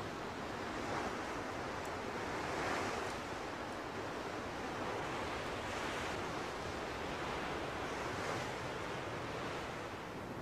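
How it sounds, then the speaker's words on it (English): Strong wind and surf at a clifftop, a broad steady roar of gusting wind over breaking waves with slow swells in intensity, continuous and without voices. "there's a strong wind blowing"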